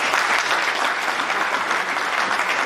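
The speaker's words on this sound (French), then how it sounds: "J'aimerais qu'on les applaudisse." An audience at a conference on the New Silk Roads claps together in a hall, a dense, even wash of applause, loud and sustained throughout.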